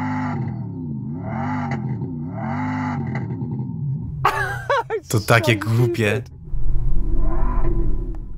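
A synthetic Lamborghini engine rumble plays from a Tesla Model X's speakers, pulsing in repeated revving swells, broken by a brief burst of a person talking before the droning returns.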